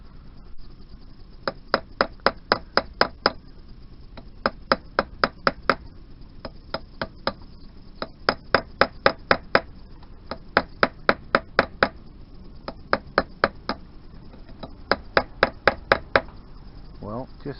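Bursts of sharp metallic hammer strikes on a 1988 Yamaha DT125R motorcycle engine during disassembly, in quick runs of five to ten, repeating with short pauses between groups, fairly close and ringing.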